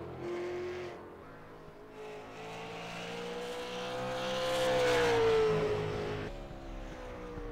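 A super late model race car laps the track at Five Flags Speedway during qualifying, its engine droning steadily along the backstretch, swelling as it nears and fading again, heard alone without talk.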